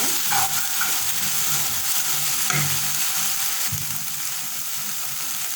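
Chicken bites with salt being stirred in a hot pan, a steady close sizzle of frying with scraping stirring strokes at intervals, no talking.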